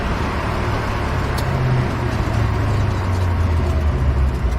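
Supercharged 3UZ V8 Toyota Stout pickup running steadily with a low, even engine and exhaust drone, loud and close, constant throughout with no revving.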